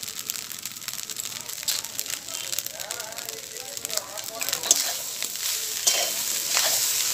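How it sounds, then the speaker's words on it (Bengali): Rice with vegetables, coriander and salt is stirred and fried in a pan: a steady sizzle runs throughout with scraping stir strokes, growing slightly louder toward the end, with no talking. "সবজিটার সাথে ভাতটাকে ভালো করে মিশিয়ে নেব।"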